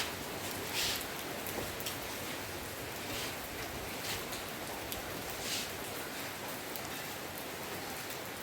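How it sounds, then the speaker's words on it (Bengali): Rain falls steadily in a continuous soft patter and hiss, fairly quiet and even throughout, with a few slightly louder drops and no voices. "বৃষ্টিটা এমন সময় এসে গেল না।"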